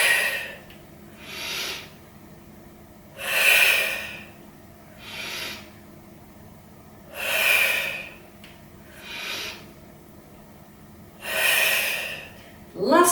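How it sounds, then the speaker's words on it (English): Slow, deep breaths taken during a Pilates exercise come in a steady cycle, each airy inhale and exhale swelling and fading, close and clear with quiet pauses between them. "breathe in, breathe out."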